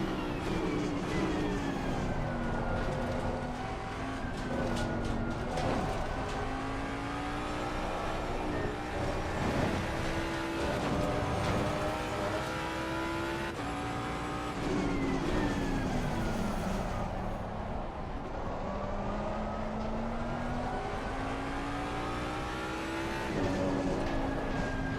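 A Ferrari race car engine in the video game Assetto Corsa Competizione drones steadily and close, its pitch climbing and dropping through gear changes with a continuous revving whine and no talk over it.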